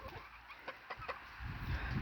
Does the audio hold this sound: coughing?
no